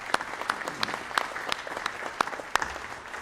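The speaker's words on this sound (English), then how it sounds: "Let's give all these Hall of Fame Board of Directors a great round of applause." An audience at an athletic Hall of Fame induction ceremony applauds the board of directors, a steady wash of clapping with a few sharp, close claps standing out rhythmically above the crowd.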